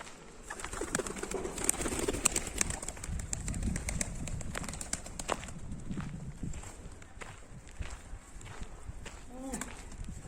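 Pigeons flapping and fluttering as they fly into a coop, a busy stretch of wing beats, scuffling and soft cooing, close and fairly loud, with someone speaking now and then.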